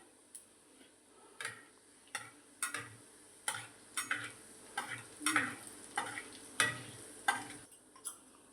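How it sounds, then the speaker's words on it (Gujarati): Cumin seeds crackling in hot oil in a home kitchen, spoon strokes tapping the pan in a regular rhythm every half second or so, over a soft sizzle, quiet and close. "જો હવે આપણા તેલમાં જીરું નાખી દઈએ. જીરાનો વઘાર કરી લઈએ."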